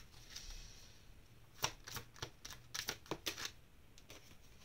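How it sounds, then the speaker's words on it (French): Oracle cards drawn and flicked from a deck during a card reading, a run of crisp papery snaps and slides with quick close clicks, quiet and without talk. "On va sortir d'autres cartes"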